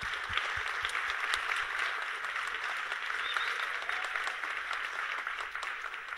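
Applause rises from an audience at a public policy conference, a steady, dense clatter of many hands at moderate level in a large room, continuing evenly without speech.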